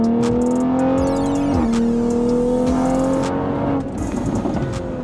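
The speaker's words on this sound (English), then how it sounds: "The car sounds so good. The FI exhaust is just, it's too good." BMW M340i with a B58 engine and FI exhaust accelerating hard, a loud, rising engine note that shifts pitch at each gear change, with the exhaust tone growing rougher toward the end and no talking.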